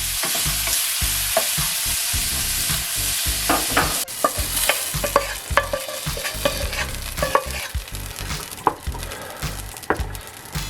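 Meatballs brown in a frying pan, a steady close sizzle broken by repeated scraping and stirring clacks of the utensil against the pan, with no talk.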